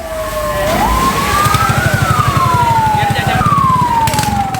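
A fire engine siren wails loudly and close, its pitch sliding up and down over a steady rumbling engine.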